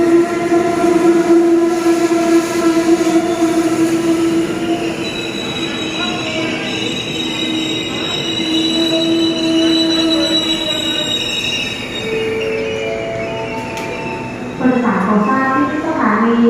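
Hitachi locomotive 4519 hauls Thaksin special express train 31 into a station at dusk, with a long loud squeal of wheels on rails and rumbling carriages, then a brief horn-like blast near the end while a voice announces over speakers.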